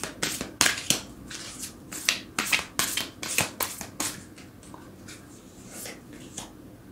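Oracle cards being shuffled and drawn by hand, a rapid string of close papery flicks and slaps that thins out toward the end.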